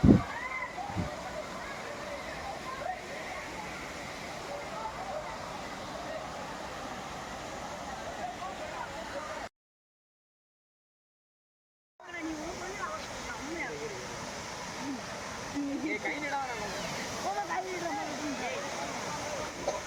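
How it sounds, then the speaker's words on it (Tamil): Water pours steadily down from the Panchalinga waterfall in the Thirumoorthi hills as a broad, constant rushing roar. There is a brief silent gap partway through, and voices of people are heard in the background. "இந்த தண்ணி பார்த்தீங்கன்னா மேலே பஞ்சலிங்க அருவியிலேருந்து மேலேருந்து கீழே ஒழுகுது பாருங்க."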